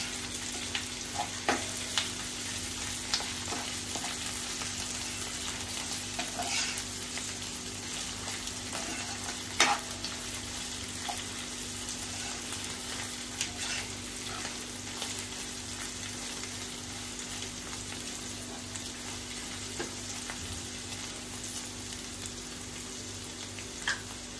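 Crushed ginger and garlic sauté in a pan, giving a faint, steady sizzle that continues for about twenty seconds with occasional soft ticks and pops, quiet and unbroken.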